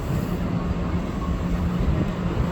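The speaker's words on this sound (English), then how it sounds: "There goes one of the metros." A metro train passes at New Carrollton station, giving a steady, close, broadband rumble that holds at even loudness without a break. No one talks.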